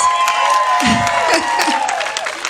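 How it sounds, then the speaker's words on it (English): At an outdoor no-mask freedom rally in Lincoln, an audience breaks into sustained applause and cheering for a speaker, a steady wash of clapping that holds at an even level throughout. "Give her a round of applause."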